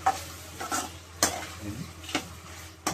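A spoon stirring egg chicken curry in a pan, with several light scraping clinks over a soft sizzle, close and alone.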